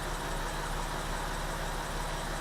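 A Porsche Boxster engine with a modified air intake idles steadily at about 700 RPM, a low, even rumble with a constant hum and no voices, close and continuous throughout.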